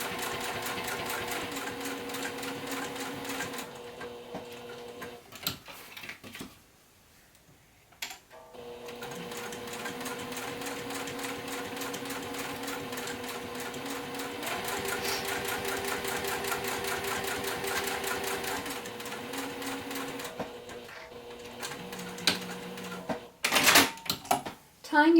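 A sewing machine stitches a fabric notepad holder in several runs, its close, rapid needle chatter stopping briefly at the corners before starting again, with a voice heard at times.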